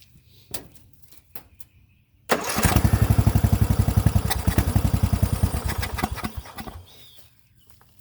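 A Craftsman lawn mower engine under restoration, carburetor not yet adjusted, catches on its first start attempt after a few faint clicks, then runs loud and close with a fast, uneven chugging for about four seconds before cutting out.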